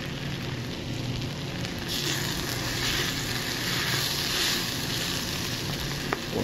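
Chili sizzling steadily in a pot as it is stirred, a continuous close crackling hiss with a faint scrape near the end and no speech.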